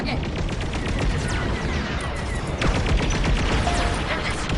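Dense, continuous blaster fire rattles on throughout a space battle against TIE bombers in a video game, with rapid overlapping shots and crashes filling the whole stretch at steady loudness.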